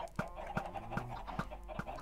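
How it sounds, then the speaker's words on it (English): Minecraft chickens cluck in short, evenly spaced bursts, about five soft clucks over two seconds, close by with a faint background hum and no talk. "Okay, chickens breeding like crazy in this area."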